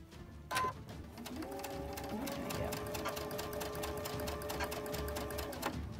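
A sewing machine chain stitches quilt blocks for Sarah's Choice and Goose & Gosling patterns, running in a steady rapid rhythm for several seconds after a brief start, close and clear with no talking.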